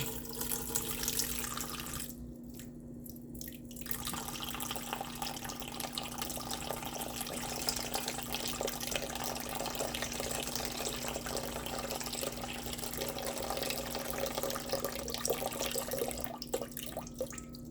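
Steady running tap water pours into a container for sourdough, a continuous broadband rush with a low hum underneath and a brief dip partway through.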